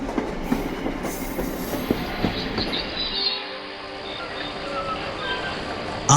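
Train running on rails arriving at a junction on a cold night, a steady rumbling clatter of wheels and carriages with faint talk mixed in, continuous throughout.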